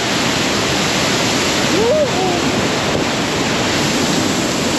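Kanchenjunga Falls roars loud and close as a dense, unbroken rush of falling water, steady throughout, with a brief faint voice barely rising above it.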